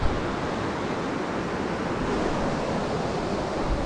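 High-pressure canal water at Bhatsa dam in Shahapur rushes in a loud, steady roar of broadband noise that holds unbroken throughout, with no voices.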